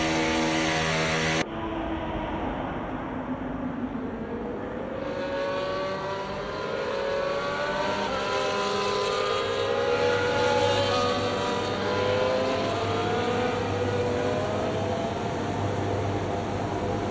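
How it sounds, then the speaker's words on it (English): Formula 1 cars from the F1 24 racing game roll toward the starting grid at the British Grand Prix, a steady engine drone with rising and falling revving tones layered throughout, continuous and fairly loud, with no talking. "As the cars make their way back to the starting grid to form up and get ready for lights out"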